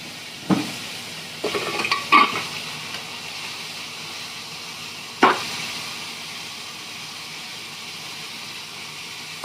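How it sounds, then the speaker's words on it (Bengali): Pointed gourd (potol) frying in a pan gives a soft, steady sizzle in a home kitchen, with a few sharp clanks and scrapes of a spatula against the pan, fairly quiet and without talk. "এদিকে আমার পটলটা ভাজা হচ্ছে"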